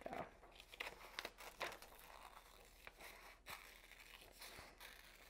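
Scissors snip through paper while cutting out an egg-shaped die cut, with crisp cuts and soft crinkling rustles of paper scraps, close and fairly quiet.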